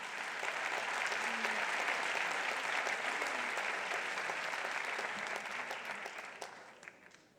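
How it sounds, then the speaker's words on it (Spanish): An audience applauds loudly for several seconds, dense sustained clapping that fades toward the end. "Más aplausos, sí, señor."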